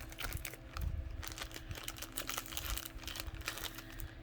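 Plastic packaging crinkles and rustles steadily during an unboxing, a close, continuous scratchy texture with small crackling bursts and no voices.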